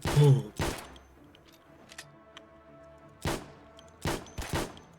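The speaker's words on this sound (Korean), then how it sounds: "매그넘 소리 졸라 크고" Several loud, sharp magnum revolver blasts in a video game, spaced irregularly with quieter game ambience and faint tones between them.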